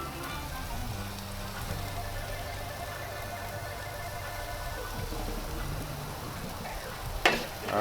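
Barbecue rib tips sizzle while being basted, a soft steady crackle and hiss that runs the whole time, with a sharp clatter near the end.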